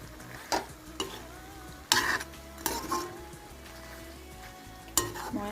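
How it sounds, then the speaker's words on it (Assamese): A spoon stirs chicken curry with torn mustard greens in a pot, giving several scraping clatters against the metal over a soft steady sizzle, with no talking. "এতিয়া এইখিনি ভালদৰে অলপ মিক্স কৰি দিম"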